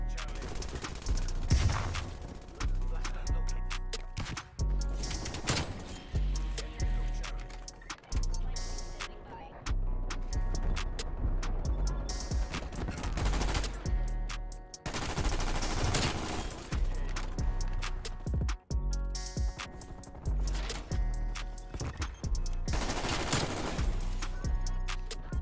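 Sustained bursts of automatic rifle fire from the Vargo 52 in a first-person shooter video game, loud and repeated with brief pauses between strings of rapid shots across the whole stretch, mixed with other game effects.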